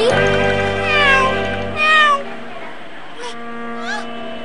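A cartoon cat meows loudly in two long, wavering cries, then gives fainter short mews, with a tonal background underneath.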